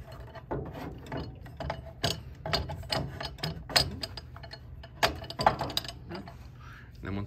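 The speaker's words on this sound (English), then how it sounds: "putting the rudder pedals in, gotta navigate them around these screws right here." Rudder pedals are fitted into a home flight sim cockpit, worked around screws. Irregular near clicks, knocks and ratchety clatter come in quick bursts against a quiet background.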